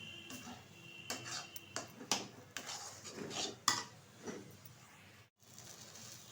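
Semolina dough stirred in a pan, heard as quiet, irregular scrapes and clinks of a utensil against metal, repeated steadily with short pauses, alone and fairly close.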